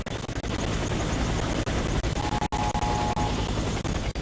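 A loud, steady helicopter drone with a rumbling rotor and engine roar fills the scene without pause, from the video game Warface.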